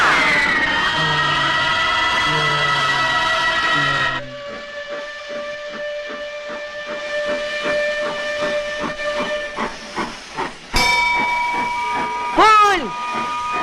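A steam train gives off a loud, steady hiss with a long multi-tone whistle, then a shift to a drier puffing hiss with a held tone and a few chuffs, ending with a sharp burst and a bending whistle blast.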